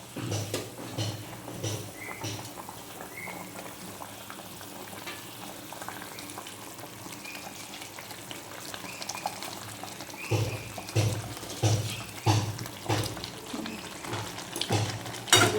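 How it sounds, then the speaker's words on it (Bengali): Pomfret fish curry gravy bubbling and sizzling in a pan as fish pieces are dropped in one by one, a steady simmering hiss with soft splashes and stirring, close and moderate in level. "এই যে ঝোলটা ফুটে গেছে এবারে মাছগুলো দিয়ে দেবো একে একে"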